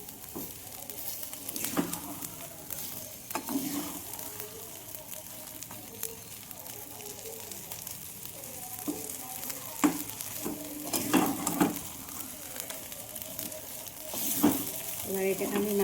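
Ghee sizzles and spits softly in a hot pan, a constant faint frying hiss with occasional stirring knocks and scrapes, close and quiet throughout.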